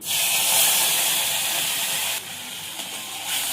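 Onion paste hitting hot oil tempered with white cumin seeds while making a Bengali rohu fish kalia, a loud steady hiss of frying that drops in level partway through and continues alone.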